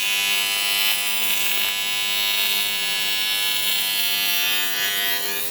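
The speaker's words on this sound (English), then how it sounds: "I am welding." Steady electric welding buzz with a strong mains-hum tone, loud and close, running continuously with no pause and no talking.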